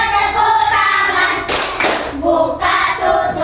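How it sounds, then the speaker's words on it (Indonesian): A short burst of hand claps, a quick flurry of slaps between stretches of sung or chanted voices, close and moderately loud. "Buka tutup bertepuk tangan."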